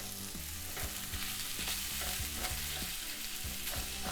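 Crumbled sausage browns in a frying pan for white sausage gravy, a steady crackling sizzle with rhythmic scraping stir strokes from a utensil, close and continuous with no talk.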